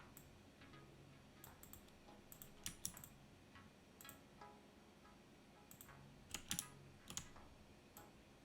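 Someone touch types on a computer keyboard, light clicks coming in quick irregular bursts with short pauses, soft and close against a quiet room.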